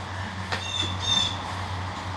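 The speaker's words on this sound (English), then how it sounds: "I'm outside, so you will hear birds." Birds outdoors give a few brief squawks and chirps over a low steady hum, moderately close and fairly quiet.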